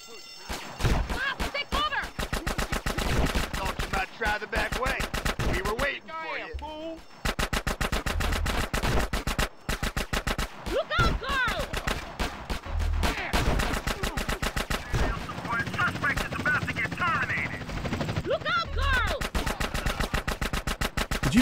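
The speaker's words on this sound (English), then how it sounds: "Did you maybe shoot the people in front of you, Carl?" Gunfire in the video game GTA San Andreas: rapid, loud automatic bursts and repeated shots in dense volleys with brief gaps, with some talking mixed in.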